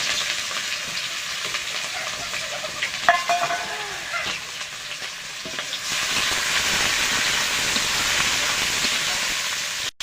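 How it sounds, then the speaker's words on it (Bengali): Sliced onions deep-frying in hot oil for chicken biryani, a steady dense sizzle running throughout, loud and close, with a few stirring scrapes of the spatula midway and the frying growing slightly more intense toward the end. "এবারে বেরেস্তা করে নেব পেঁয়াজগুলো ভেজে।"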